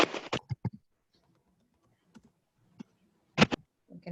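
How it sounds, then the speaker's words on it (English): Keys on a computer keyboard are tapped in short bursts of clicks, a quick cluster at the start, then sparse isolated taps and another cluster after quiet gaps, close and clear with no talk. "and typing in Marathi."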